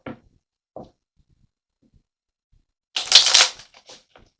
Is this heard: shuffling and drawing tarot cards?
yes